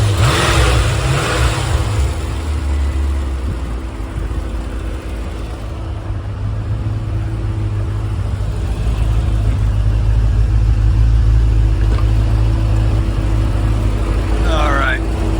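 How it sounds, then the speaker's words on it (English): A Callaway Twin Turbo C4 Corvette engine runs close by with a loud, steady low rumble and a revving swell, while people talk over it. "I'm gonna go ahead and shut this thing down and rev it up a couple times here"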